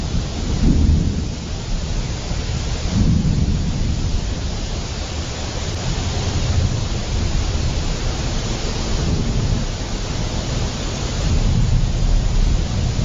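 Steady heavy rain pours outdoors near a market, a dense, loud wash of noise with deep rumbles of thunder swelling and fading throughout, with no voices.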